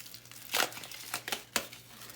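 A recycled chip bag crinkles as it is opened, with several separate crackly rustles over about two seconds, fairly close and moderately loud, alone with no talk.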